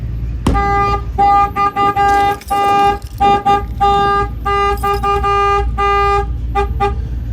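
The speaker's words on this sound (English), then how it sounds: "I'm gonna go ahead and bang on the window. The alarm will fire off." A semi truck's security alarm blasts right after a bang on its window, a loud close honking pattern of repeated horn bursts, some short and some held, continuing for several seconds.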